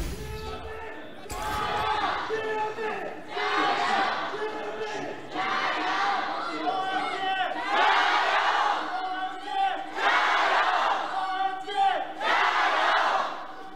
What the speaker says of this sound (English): The fans in Chengdu are as loud as ever.